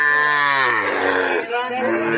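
A Sahiwal bull calf at a livestock market in Joypurhat gives one long, loud, close moo that swells and then tails off, with a brief dip near its end.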